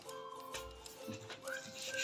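Scissors snipping through red paper during a children's paper-craft activity, with soft, brief cutting clicks that grow louder toward the end, set against faint room noise.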